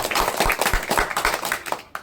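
Hands clap in a quick, steady rhythm of sharp slaps, close and fairly loud, with no talking over them.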